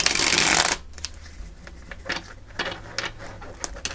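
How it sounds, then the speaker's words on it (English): A deck of tarot cards is shuffled: a loud riffling burst at the start, then scattered softer card slaps and flicks, close up with no talking. "Oh, this was not a great shuffle."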